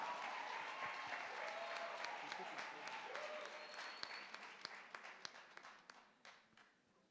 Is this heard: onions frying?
no